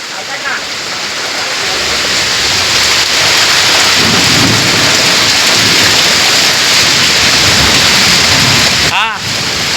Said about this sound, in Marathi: एवढा पाऊस पडला म्हणजे समजून जायचं पावसाची सुरुवात झालेली आहे